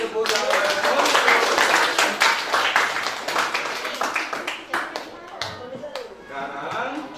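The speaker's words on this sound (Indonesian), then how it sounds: "Beri tepuk tangan." A classroom of students claps together in a dense burst of hand claps that thins into scattered claps, with voices talking over and after it.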